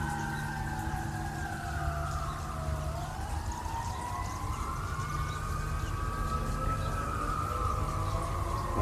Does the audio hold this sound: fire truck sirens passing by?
yes